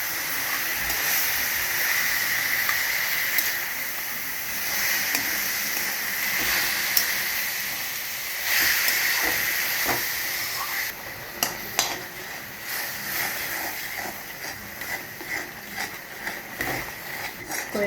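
Sukkakura pachadi being stirred and fried in a pan, with a steady close hiss of sizzling under continuous scraping and clinking of the spoon against the pan, with a few sharper knocks toward the end.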